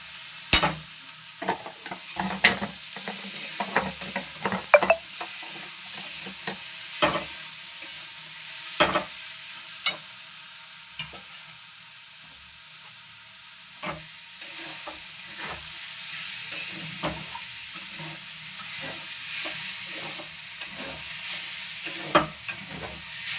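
Drained, soaked rice being stirred in a pan for buttery prawn polao, with repeated scraping and clacking strokes of the spoon over a continuous low sizzle of frying, close and with no talking.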